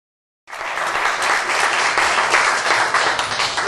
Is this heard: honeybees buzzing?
no